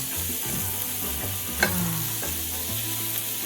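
Peppers for steak fajitas sizzle in a hot pan while a utensil stirs and scrapes through them, a steady close frying hiss with occasional sharper clatters.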